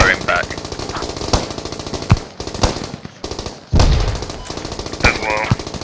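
Bursts of .50 cal heavy machine gun fire in a Squad video game battle, loud rapid rhythmic rounds repeating in long strings with brief gaps, and voices talking over the shooting.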